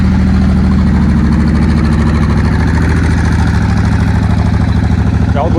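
A 2005 Suzuki VL1500 motorcycle idles loud and close, its engine churning out a constant, throbbing low rumble without a break.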